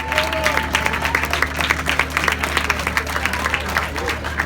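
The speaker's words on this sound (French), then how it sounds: "applaudissez-vous bien fort parce que vous le méritez" Audience applauding at a concert held in an ice rink, a steady patter of many hands clapping through the whole stretch over a low constant hum, with some voices mixed in.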